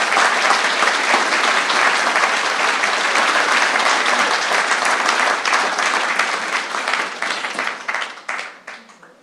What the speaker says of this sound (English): Please give this special group a round of applause.